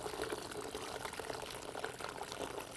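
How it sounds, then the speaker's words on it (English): Green tea pours through a mesh strainer into a container as a steady, soft, continuous liquid trickle and splash, close and fairly quiet, with no talking. "And I'm pouring in our green tea."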